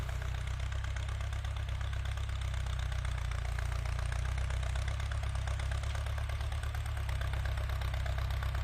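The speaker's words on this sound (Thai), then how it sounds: "คันนี้ก็เป็นเครื่องสี่สูบนะพี่น้องสี่สูบไม่มีเทอร์โบครับ" A four-cylinder non-turbo Ford 6640 tractor engine idles steadily nearby, a constant low diesel rumble with a faint knocking pulse and no gaps, no voices.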